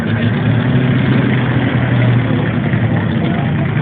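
A naturally aspirated small-block V8 in a tractor pull machine at a fair in Maine runs steadily, a loud continuous low engine rumble close by with no clear revving.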